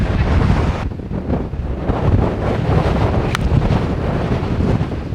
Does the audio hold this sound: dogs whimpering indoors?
no